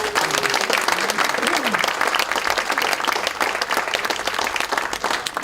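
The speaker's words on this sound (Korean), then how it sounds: "의원 여러분들께서 박수로 추인해 주실 것을 부탁드립니다." Democratic Party lawmakers at a caucus meeting break into loud, sustained applause that fills the room, with a brief voice heard over the clapping at the start.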